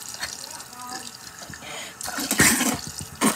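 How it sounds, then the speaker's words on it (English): Hot water pours from a tap and splashes over someone's face at a sink, a close, uneven rush and spatter with brief louder gushes toward the end, with a person speaking over part of it. "I'm gonna run my face under hot water."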